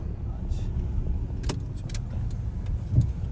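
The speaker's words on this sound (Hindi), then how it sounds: "आज हम लगाएंगे इधर गाड़ी" A car pulling into a crowded parking lot at a halal buffet venue in Okinawa, Japan: steady low engine and road rumble with light clicks and a soft thump near the end.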